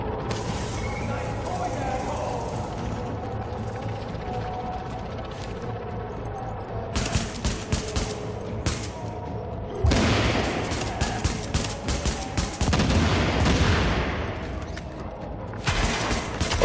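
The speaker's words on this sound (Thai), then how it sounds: "โอเคมันเริ่มยิงละ" Bursts of rapid automatic enemy gunfire crackle in Tom Clancy's The Division amid mechanical clatter and booms, with a voice talking over parts of it.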